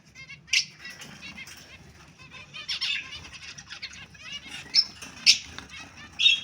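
A pair of white creamino red-eyed cockatiel parrots flap their wings in short, close bursts, mixed with scattered high chirps and a soft background murmur.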